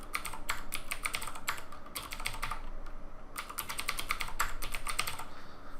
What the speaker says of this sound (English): I'm just going to type this in, it'll be a bit faster.